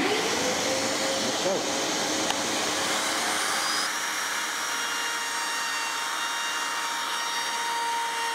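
A shop vacuum switches on in a woodworking shop during carving with a profile bit, a loud steady whirring roar with a high whine that rises as the motor spins up and then holds constant.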